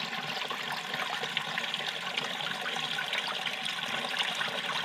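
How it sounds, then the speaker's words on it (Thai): Water flowing at a clear, cool waterfall, a steady broadband rush at moderate distance with no voices. "น้ำตกจากนี่"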